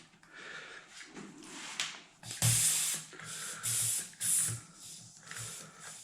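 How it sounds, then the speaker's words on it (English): Air hisses out of the tyre valve on a Xiaomi M365 Pro electric scooter wheel in several sharp, close bursts, with brief pauses and small mechanical handling sounds between them. "need to release the air out of the wheel and take the valve out"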